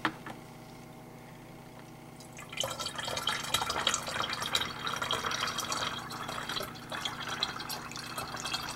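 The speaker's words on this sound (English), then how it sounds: "I'm going to put in some nice warm water." Warm water is poured into a container of biodiesel during washing, starting as a quiet low hum, then a sudden splashing, gurgling stream that continues steadily up close.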